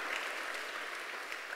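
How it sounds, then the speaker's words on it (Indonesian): Church congregation at an online service applauds briefly, a soft, even burst of clapping from a distance with no speech over it. "Tepuk tangan bagi Allah kita saudara."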